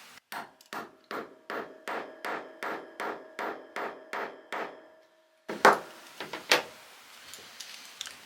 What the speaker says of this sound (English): I can take our fixing tool, place that in between the two flaps on either side, and then we'll hammer this down into place